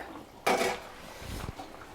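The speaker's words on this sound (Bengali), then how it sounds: "এবারে একটু হালকা হাতে নেড়ে চেড়ে দেবো।" Vetki fish muitha curry with potatoes being gently stirred in a pot: one sharp metallic clink of the spoon on the pot, then soft, muffled scraping and stirring, close by.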